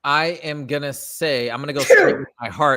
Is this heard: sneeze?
yes